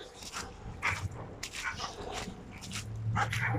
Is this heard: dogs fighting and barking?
yes